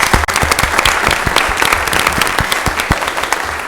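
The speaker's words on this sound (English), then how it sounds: "let's give them a round of applause." Applause at a county commission meeting honoring retiring staff, dense and steady clapping from a room full of people with sharp individual claps standing out, continuing loud throughout without speech.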